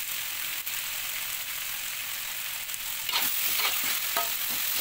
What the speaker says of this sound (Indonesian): Terakhir masukkan tomat dan goreng lagi bersama cabai, bawang, dan yang lain-lain sampai tomatnya layu dan matang